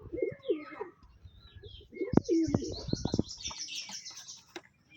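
Pet pigeons kept in a Rajshahi loft coo nearby in soft, repeated low rolling calls, with sharper chirps and brief flutters mixed in and a fainter high twittering trailing underneath.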